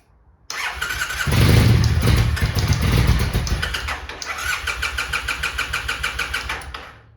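A theft-recovery auction motorcycle's starter cranks loudly and close by, churning in a steady rapid rhythm for several seconds as the engine almost catches but never fires, then cuts off.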